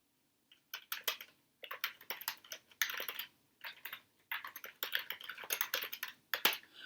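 Quiet, close typing on a computer keyboard while working in the vi editor, with irregular bursts of clicking keystrokes separated by short pauses.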